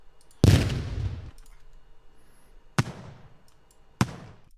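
Urban explosion sound effects from a sound library: one big loud blast with a long rumbling decay, followed by two sharper, shorter booms spaced about a second apart, each trailing off into low rumble.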